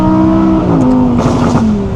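Audi R8 GT from 2023 revving hard, its exhaust firing sharp gunshot-like pops and crackles over a loud, steady engine drone that rises and falls, close and dominant with no talk.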